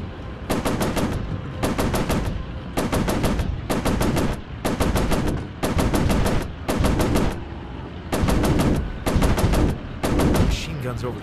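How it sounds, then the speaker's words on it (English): Aircraft machine guns in the World War II flight game War Planes WW II hammer out loud, rapid bursts in about nine distinct volleys with brief gaps between them, the fire dense and close over a steady background roar. "Machine gun's overheated."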